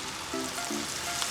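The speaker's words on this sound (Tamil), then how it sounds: "எண்ணெய் காஞ்சதுக்கப்புறமா நம்ம வச்சுருக்க லாலிபாப்பை இதில் சேர்த்துடலாம்." Chicken lollipops fry in hot oil, a steady close hiss of bubbling oil with a few faint metallic tones over it and no talking.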